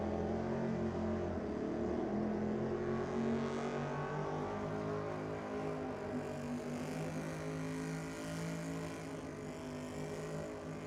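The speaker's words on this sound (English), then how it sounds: "Matthew about halfway through the skid here at Sydney Dragway." A car doing a tyre-smoking skid at Sydney Dragway, its engine holding a loud, steady, droning roar with layered harmonic tones that barely change for the whole stretch.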